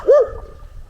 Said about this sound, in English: Look at that old dog over there.